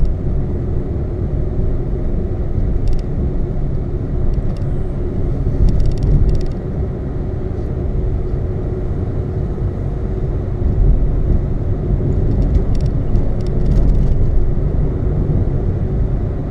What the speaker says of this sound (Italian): Teniamo la quarta con l'acceleratore bello pigiato, in modo che consuma il doppio.